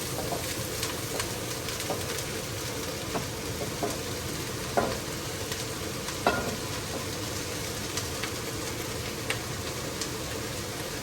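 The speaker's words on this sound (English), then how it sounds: "we're going to add all our onions to the pot. Oh, listen to that sizzle" Steady crackling sizzle of onions frying in a pot, with occasional stirring scrapes and clinks, no talking.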